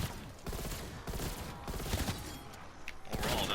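Rapid automatic fire from a modified M4A1 rifle in Cold War Zombies, loud, dense bursts of shots running almost continuously across the few seconds with brief gaps between them.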